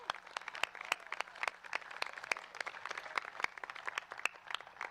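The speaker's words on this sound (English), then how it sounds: "So a round of applause for them." Audience applause at an outdoor celebration for a women's soccer national championship team, a steady wash of many hands clapping with sharp individual claps standing out, sustained and fairly distant throughout.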